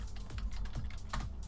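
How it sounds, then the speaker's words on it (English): Quiet typing on a less clicky substitute computer keyboard, a quick, irregular patter of soft key taps heard up close with no talking. "My keyboard is clicky as hell, so I'm using a different keyboard."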